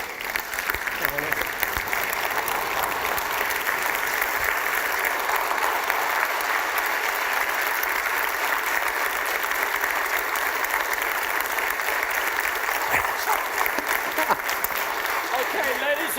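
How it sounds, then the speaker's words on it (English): A conference audience at a European business forum gives a standing ovation to a top-ranked CEO, sustained, dense applause from a large hall that holds steady for over fifteen seconds. "How about a standing ovation for this guy?"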